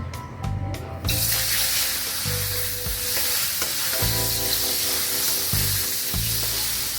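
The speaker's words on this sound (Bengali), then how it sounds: "তেলটা গরম হয়ে গেলে মাছগুলো ছেড়ে দেব।" Tengra fish frying in hot oil, a loud steady sizzle that bursts in after a second, with metal utensil scrapes from stirring recurring through it up close; no one talks.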